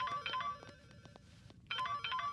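A bright electronic phone ringtone plays in short melodic bursts, pausing briefly in the middle before the tune starts again, fairly close and clear.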